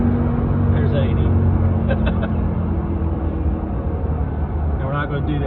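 Ram TRX pickup in sport mode heard from inside the cab while cruising, a loud, constant low exhaust drone and road rumble with little change, plus a few faint brief clicks.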